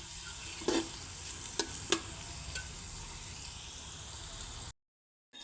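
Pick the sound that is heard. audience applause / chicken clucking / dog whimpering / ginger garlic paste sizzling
ginger garlic paste sizzling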